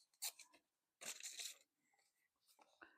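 Two bursts of paper tearing by hand, the second longer and ripping, followed by softer rustling and handling sounds, close and fairly quiet.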